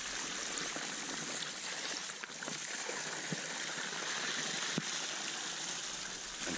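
Water pours steadily from the end of a pipe into a long earthen swale on a property, a continuous close rushing trickle with no talking.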